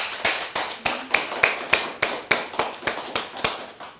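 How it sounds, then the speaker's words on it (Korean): Evenly spaced claps, roughly three per second, ring out in a church congregation during a Sunday sermon, crisp and fairly close, a steady rhythmic beat with no talking. "우리 주님께 감사의 박수 드립니다."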